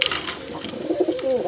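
A male pigeon at a bird sale gives a short, close, rolling coo, a low throaty murmur swelling twice within a second and a half.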